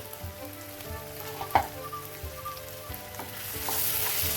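A lid comes off a pan of squid cooking. There is a single sharp metallic clink midway, and a quiet, steady simmering sizzle swells louder near the end.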